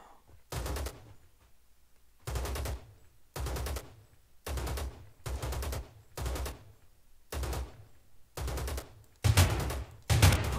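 Video game gunfire from Rules of Survival: about nine evenly spaced bursts of rapid shots, each lasting around half a second, loud and alone with near-silence between them, the last two heavier.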